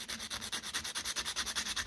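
Burrs are cleaned off a Ferguson 20 TEF diesel pump part with rapid, even back-and-forth rubbing strokes, close and steady, about eight strokes per second, with no voices.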